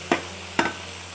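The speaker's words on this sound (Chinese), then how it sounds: "我们倒入鸭胗，再倒入鸭肠，给它翻炒均匀。" Duck gizzards and intestines are stir-fried with chillies in a wok, two quick tossing scrapes over a low steady sizzle, close and alone.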